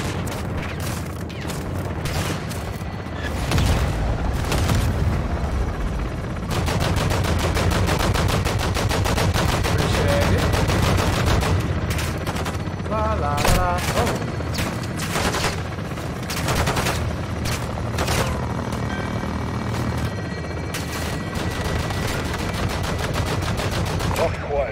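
Helicopter gunfire in the video game Modern Warfare II, with loud sustained machine-gun bursts and heavy rapid shots running almost without pause, dense and close throughout.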